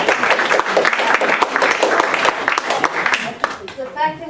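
A crowd bursts into loud, close applause at a community report-back gathering, dense clapping with scattered voices and a few cheers mixed in, thinning near the end.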